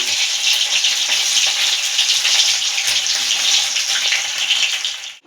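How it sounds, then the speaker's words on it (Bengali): Pieces of steamed egg fry lightly in oil in a pan, a loud, continuous close-up hiss of bubbling oil that fades out sharply at the very end. "এবার এটাকে আমরা তেলে হালকা করে ভেজে নেব"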